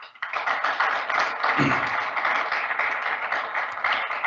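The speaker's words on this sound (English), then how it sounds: "Can we give her a nice round of applause?" Sustained applause from an audience at the official opening evening of a Northern Cape colloquium, a dense, steady wash of many hands clapping for the full length, moderately loud and without voices.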